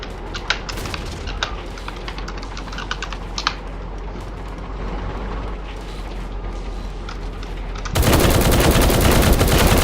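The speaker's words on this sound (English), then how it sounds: "these are definitely not explosive machine guns" Rapid bursts of tank machine-gun fire in the War Tycoon video game, from M1 Abrams-type tanks, crackle as a dense, uneven rattle, then swell into a loud, continuous roar near the end.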